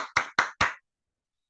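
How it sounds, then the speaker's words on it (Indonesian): Three brief claps sound at an Indonesian health investment program presentation, with a fourth starting at the very end, each sharp and close, separated by short gaps of silence, too few and isolated to suggest a full audience. "Tepuk tangan dong buat Bapak Bentek Hijani."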